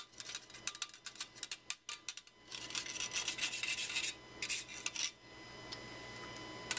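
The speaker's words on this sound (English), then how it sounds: "you can always get a spoon and grate it" A spoon scrapes and grates inside a dish while key lime pie bars are made, with rapid scratchy strokes in bursts and then a steadier rasping run, close and fairly quiet.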